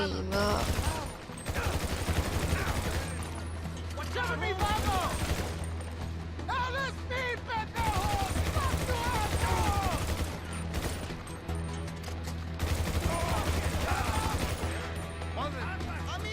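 Rapid gunfire bursts in GTA 5 ring out repeatedly across the whole stretch, loud and continuous, with someone talking over much of it.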